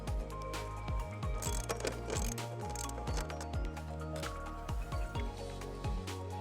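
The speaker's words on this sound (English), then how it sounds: "You can remove these 2 fasteners with a 10mm socket." Rapid ratcheting clicks from a 10mm socket ratchet loosening taillight fasteners on a 2024-2025 Hyundai Elantra Hybrid, repeating in quick bursts with short pauses, close and steady, with no talking.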